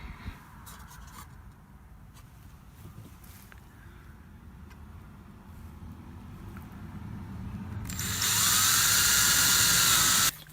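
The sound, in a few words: electric drill boring hole in wood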